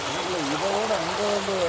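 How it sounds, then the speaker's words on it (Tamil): Fast water rushes steadily through a village canal, a continuous close roar with a voice talking over it. "அங்கெல்லாம் என்ன ஃபோர்ஸாக போச்சு தண்ணி"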